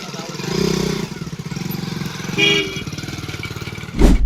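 A motorcycle engine idles close by with a steady, chugging pulse that briefly swells with a blip of throttle, while people talk over it.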